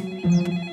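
A telephone ringing in a home during a comedic joke skit, a short electronic ring tone heard once, moderately loud and close.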